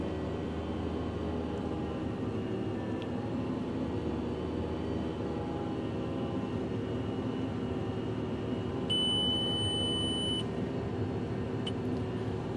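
An electronic alarm on farm machinery during wheat sowing gives a steady high beep tone for a second or two over the constant drone of a tractor engine, with a few short bleeps before and after.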